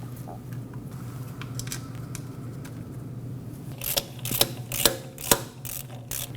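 Ratchet wrench driving the small rear brake caliper bolts on a 2020s Toyota Corolla, several short bursts of clicking near the end over a steady low hum, close and fairly loud.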